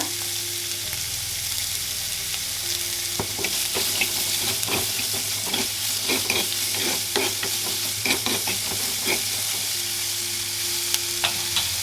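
Onions sautéing with salt in a pan for a quail egg curry, with a continuous close sizzle and frequent scraping, clicking stirs of a spatula throughout, no talking.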